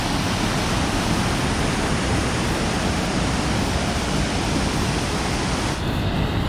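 Tango Creek rushes below Tango Falls along the Icefields Parkway, a loud, unbroken roar of white water that fills the whole scene without pause.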